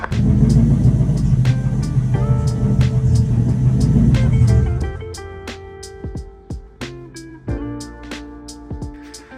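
A Toyota IS F engine idles during an idle relearn. A heavy, close rumble settles down about halfway through, and sharp ticks and clicks ring out above the lowered hum.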